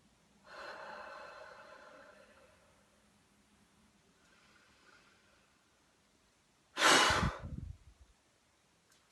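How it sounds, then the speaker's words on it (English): Breathing exercise from the Active Cycle of Breathing Technique: a long, deep inhale and a quieter exhale, then a sudden, loud, short forced huff of breath, all close up and without talk. "So that was your 3 deep breaths and your short huff."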